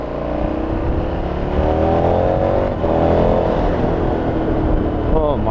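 A 2019 KTM 1290 Super Adventure touring motorcycle, about 160 bhp, accelerates hard in sport mode, its engine note climbing steadily with loud wind rush throughout and a brief gear change near the end.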